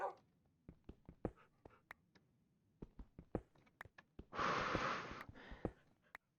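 A dog snorting and sniffing close by, with repeated sharp nasal puffs and a longer breathy huff in the middle, faint whimpering in between.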